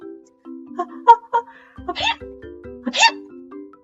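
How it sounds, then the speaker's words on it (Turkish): A voice acts out a chorus of sneezes, short sharp bursts over a simple tinkling melody playing in the background. "koro halinde hapşurmaya başlamışlardı."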